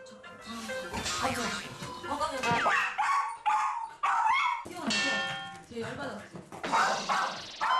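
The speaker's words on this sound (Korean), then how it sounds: "현관 앞에서 짖는 걸 보니 집에 누가 오셨나 본데요" A dog barks and yips at the front door of a home, repeated sharp barks mixed with voices talking over them, close and loud.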